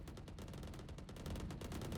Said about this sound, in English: We hear a lot of gunfire